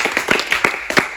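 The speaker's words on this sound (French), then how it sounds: "s'il vous plaît, on les applaudit" Audience applause in a short close burst of quick, sharp hand claps that rise and fall unevenly for about a second.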